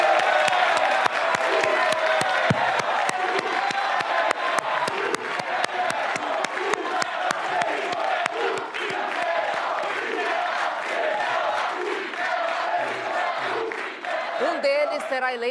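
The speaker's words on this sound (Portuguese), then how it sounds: "Vamos receber com uma salva de palmas os dois candidatos, Marcelo Crivella, do PRB, e Marcelo Freixo" A studio audience at a televised Rio de Janeiro mayoral runoff debate gives sustained applause with some cheering and whoops, a steady, dense roar of clapping that carries throughout at an even, fairly loud level.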